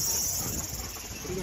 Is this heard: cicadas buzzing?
yes